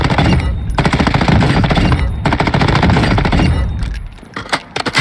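Battle rifle gunfire in a video game, loud and close, with sustained rapid-fire bursts broken by short pauses and a few scattered final shots.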